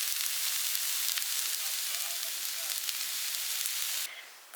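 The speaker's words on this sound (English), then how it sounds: "I'm just making some noodles, noodle stir fry." Noodle stir fry sizzles in a pan, cooked on a solo ridge-climbing trip. The crackle is steady and close, with a faint clatter of stirring, and it fades out near the end.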